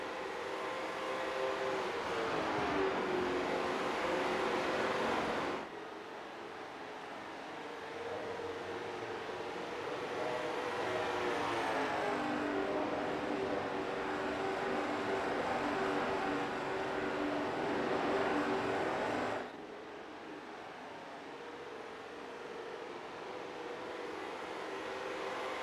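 Race cars on the track at Iowa, their engines droning in long passes that swell and fade, with sharp drop-offs as each pack goes by.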